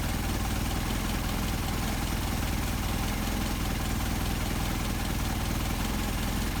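An engine fitted with Solex 44PHH carburetors idles steadily, a continuous close, even mechanical drone with constant vibration and no change in pace.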